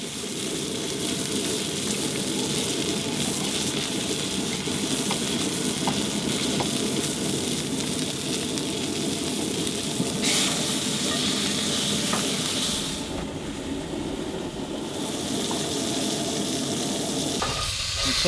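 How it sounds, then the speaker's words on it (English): Meat sears in a pan with garlic during truck-bed camping, giving a loud, dense, continuous sizzle and crackle close up for the whole stretch, with no voices. "make sure you sear it on the sides. Toss some garlic in there."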